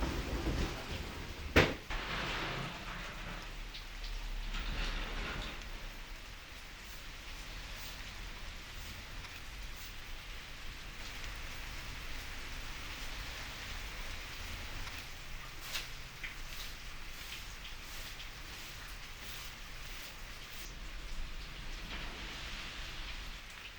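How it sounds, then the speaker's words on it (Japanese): Steady rain heard from indoors on a June morning, a soft continuous patter with a few scattered louder drops and one sharp knock early on. "雨の音が聞こえています。"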